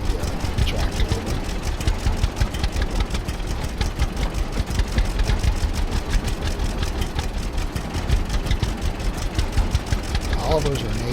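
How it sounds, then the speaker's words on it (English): A tractor engine in the farming game Farmers Dynasty runs with a steady, rapid chugging pulse, loud and close, holding an even idle-like rhythm for the whole stretch. "So let's take the tractor over."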